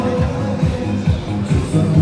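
Crowd hubbub on Dongmen Pedestrian Street in Shenzhen, a steady murmur of many voices around a street entertainer and singer, with rhythmic low thumps of music pulsing underneath at moderate level.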